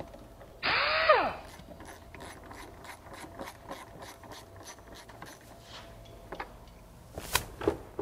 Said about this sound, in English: Go ahead and remove this bolt here.